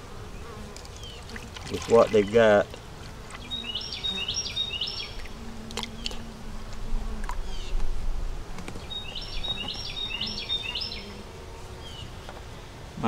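Honey bees buzz around a backyard hive, a continuous close insect drone with a few bright chirps from nearby birds, and a voice talks briefly over it.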